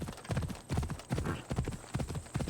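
Horse hooves clip-clop in a steady, close trotting rhythm in the Assassin's Creed Odyssey game, loud and continuous with no talk over them.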